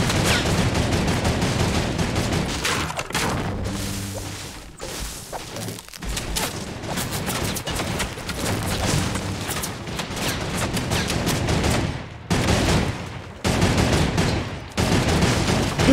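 Sustained turret gunfire in the Fortnite Winter Royale mode, loud dense rapid bursts with booming impacts that run almost unbroken, pausing only briefly before resuming.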